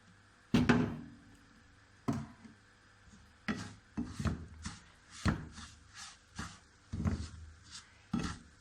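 Semolina roasting in half a cup of oil for halwa, stirred with a spoon: a series of sharp scraping and clacking strokes against the pan at an irregular rhythm, close and clear over a faint background hiss.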